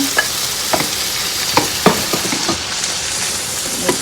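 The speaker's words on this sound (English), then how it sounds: "saute the ham and the season together inside this thing" Ham and seasoning sauté in a pan with a steady close sizzle, punctuated by light scrapes and taps of stirring.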